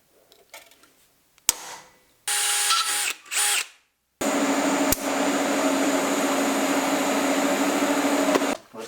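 A power drill boring into metal: a few short whirring bursts, then one long sustained grinding run, close and fairly loud.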